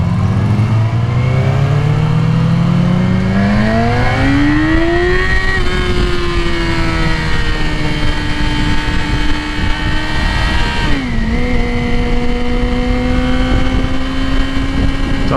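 A motorcycle engine revs up while being shifted through the gears, pitch climbing, holding steady, then dropping sharply on a gear change before settling again, loud and close with no talk.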